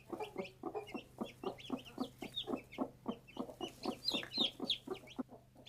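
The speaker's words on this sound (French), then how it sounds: "Quelques petits cris aigus annoncent enfin la sortie des poussins" A brooding hen clucks in a quick, regular rhythm while her newly hatched chicks give thin, high peeps from under her feathers, all close and fairly soft.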